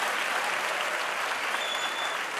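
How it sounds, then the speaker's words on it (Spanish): A comedy club audience claps in a steady, dense burst of applause filling the room, sustained and fairly loud throughout. "Dejad de aplaudir los hombres que tenéis que estar fuera"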